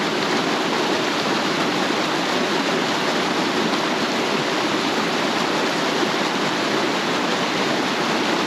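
Water in a river stream on Kinder Scout rushes steadily in a dense, unbroken hiss, close and loud throughout with no voices.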